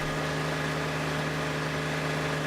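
Hydraulic motor driving a screw pile into the ground for a tiny house foundation, a steady close mechanical drone with a strong low hum running unbroken throughout.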